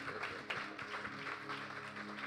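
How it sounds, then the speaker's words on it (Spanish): Church congregation clapping together in a sanctuary, a steady dense wash of many hands sustained throughout, with a faint low hum of music or room tone underneath. "Iglesia, puede dar un aplauso fuerte a nuestro Dios."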